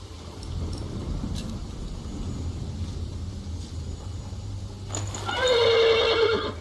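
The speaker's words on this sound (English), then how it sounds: "The horse nearly woke the guard." A horse lets out a loud, shaky whinny near the end, following a stretch of low rumbling background noise.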